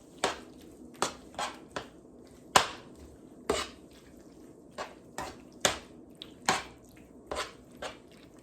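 A spoon stirs paprika into a creamy macaroni and cheese sauce, giving about a dozen separate soft clinks and wet taps against the pot, spaced irregularly and heard up close with no voice.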